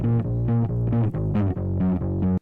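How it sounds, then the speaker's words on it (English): Short bass line from a rock cover: a few seconds of deep, rhythmic plucked notes stepping through a simple pattern, played alone and fairly loud. "Then a little bit of bass."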